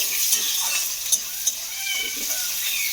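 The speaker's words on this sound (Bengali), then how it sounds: "পেঁয়াজটাকে আমি ভালো করে একটু ভেজে নেব" Chopped onion frying in oil in a pan, a close hissing sizzle with a few light taps and scrapes of a stirring spoon.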